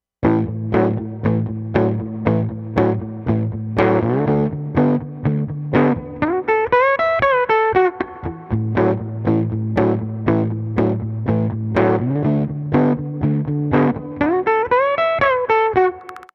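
Electric guitar plays a verse part: a rhythmic, lightly distorted chord riff with punchy repeated strums and sliding double-stop licks, loud and alone for about sixteen seconds.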